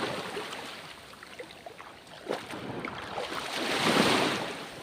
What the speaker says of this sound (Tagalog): Ayan guys ang dagat dito.